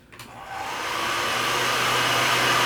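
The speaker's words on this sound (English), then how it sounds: "make sure you guys keep moving your blow dryer" An industrial blow dryer starts with a click and rises into a loud, steady whooshing roar while heating a label on a Nike shoe box, running alone without talk.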